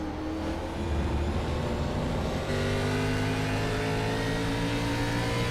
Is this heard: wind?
no